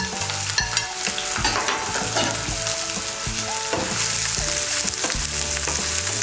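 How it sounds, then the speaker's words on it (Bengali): Chopped onion and green chilli fry in oil with a continuous loud sizzle. Repeated stirring and scraping of a spatula against the pan runs through it, with no voices. "পেঁয়াজ কুচি আর কাঁচা লঙ্কা কুচিটাকে তেলের সঙ্গে মিশিয়ে নিয়ে ভেজে নেব হালকা করে।"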